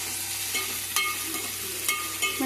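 Onions fry in a pan until browning, a steady close sizzle broken by a few sharp clinks and scrapes of stirring.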